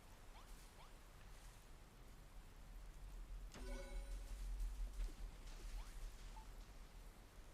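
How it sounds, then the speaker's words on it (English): Rain falls in the video game Jak 2 as a faint, steady hiss with a brief splashy burst partway through, soft and distant with no talking. "And now it's raining."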